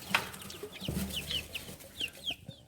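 Chickens cluck in short, repeated calls at close range, overlapping one another against a low steady background with no talk.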